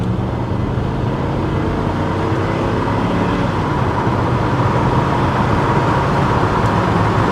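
Range Rover with its engine running while being driven, a constant loud low drone of engine and road noise from inside the cabin.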